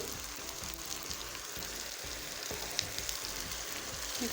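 Tomato paste sizzles and fries in a pan with onion paste, a steady close crackling hiss with faint clinks, with no talking.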